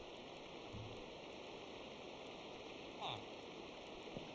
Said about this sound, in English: I'm gonna sleep though, because that rain is so loud.